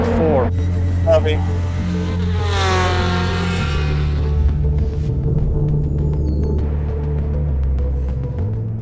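A race car engine at Le Mans practice, loud and close, holds a steady low drone, then revs up in a rising sweep before settling back to a throbbing pull, with a voice talking over it.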